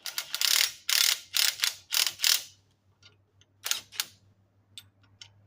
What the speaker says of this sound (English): on the nuts using that big socket